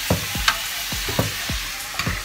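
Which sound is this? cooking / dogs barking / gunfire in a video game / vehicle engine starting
cooking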